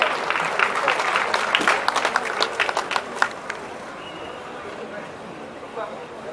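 Crowd applause at the Miyar Kambala buffalo race finals in 2025 near Mangalore: scattered outdoor clapping swells over the first few seconds, then fades into open-air murmur as voices carry on.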